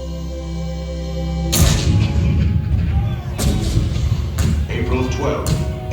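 Heavy booms of cannon fire crash out in a burst, loud and rumbling, joined by further thuds and a dramatic backdrop, depicting Fort Sumter in an attraction show.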